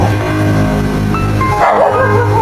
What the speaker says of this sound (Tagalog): malayong alulong ng aso